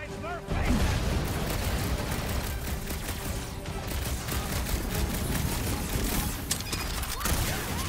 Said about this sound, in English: We got sniped!